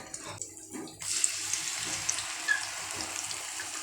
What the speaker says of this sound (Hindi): देखो फिश अब फ्राई करना स्टार्ट कर दिया